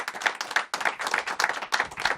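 An audience applauds for John Peddelty, a burst of clapping with rhythmic swells and a brief dip partway through, fairly close and steady with no talk over it.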